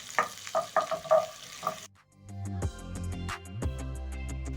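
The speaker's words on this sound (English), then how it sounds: "over medium heat, you're going to cook the onions until translucent." Diced onions cook in a pan over medium heat for creamed spinach, crackling and sizzling as they are stirred in short bursts. After a brief lull, a steady, softer tonal backdrop continues under the frying.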